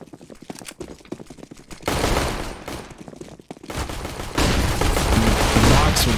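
A pistol round in a competitive video game match opens with sparse, rapid shots and clicks. Dense bursts of gunfire follow, growing louder and heavier, with near and far shots overlapping in a steady barrage.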